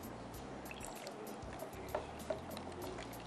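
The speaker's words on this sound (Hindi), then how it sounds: "ज़रा सा पानी और डाल दीजिए" A little water trickles and pours into a fish marinade in a cooking-show kitchen, a soft continuous liquid sound under steady background hum with a couple of faint clicks.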